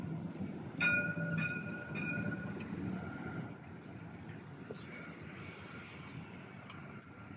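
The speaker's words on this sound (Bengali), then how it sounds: "Dubai tram rail" Dubai Marina tram rolling along its rails, a low steady rumble with brief high squeal tones early on, fairly faint and distant, easing off toward the end with a couple of sharp clicks.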